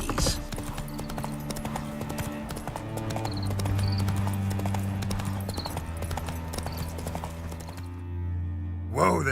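Roach the horse's hooves clip-clop steadily in The Witcher 3, close and clear over a low musical drone, slowing toward the end.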